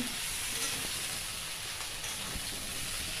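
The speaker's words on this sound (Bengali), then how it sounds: "আমি ফুলকপি ভাজা করছি" Cauliflower florets frying in hot oil, a steady bright sizzle and hiss filling the whole stretch at an even level, with no talking over it.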